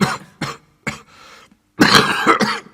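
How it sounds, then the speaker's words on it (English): A man coughs harshly several times in rough, hacking bursts, ending in a louder, rattling fit of coughing. "Suddenly the miner began to cough violently, covering his mouth with a dirty handkerchief."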